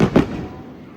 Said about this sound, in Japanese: 花火。